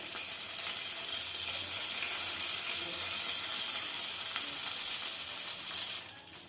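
Cumin seeds and garlic sizzling in hot oil, a steady, bright, close frying hiss that holds constant throughout and eases off slightly at the end.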